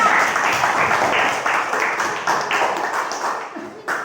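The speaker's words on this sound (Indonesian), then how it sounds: "Tepuk tangan untuk kita semua." A classroom group of students applauding after group presentations, a loud dense burst of clapping close by that gradually thins out, with murmuring voices underneath.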